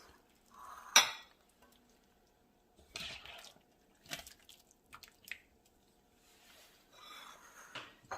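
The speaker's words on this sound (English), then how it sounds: "After your broth is done, you take the filling and you scoop it over your bowls." Ramen filling being scooped into serving bowls, with scattered clinks of a utensil against bowls, soft wet plops and drips, quiet and close with pauses between scoops.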